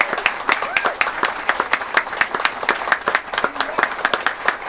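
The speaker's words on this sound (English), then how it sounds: "please join me in giving him a round of applause" Audience at an open house celebration claps in a round of applause, individual hand claps distinct and rhythmic, fairly close and lively throughout.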